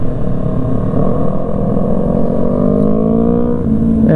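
Motorcycle riding at the Interlagos circuit during a festival, with loud engine drone rising in pitch as the bike accelerates, sustained and close throughout.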